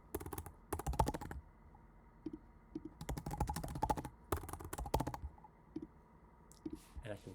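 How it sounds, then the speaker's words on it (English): Fingers type patient details on a computer keyboard in quick bursts of close, crisp key clicks, with short quiet gaps between runs. "type in the patient's information"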